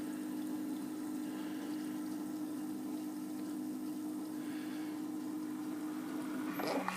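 Water running through a Keurig coffee maker during a repair, a steady low hum and trickle that holds for several seconds, faint and close, ending in a brief clatter.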